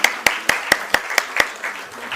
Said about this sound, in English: Let's give a huge round of applause for sir